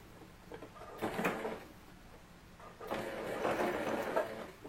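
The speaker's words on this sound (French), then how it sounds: "je vais venir faire une couture sans faire de point d'arrêt" A sewing machine stitches a seam on a ruffled dress without a backstitch, running in two short, quiet mechanical bursts separated by a pause.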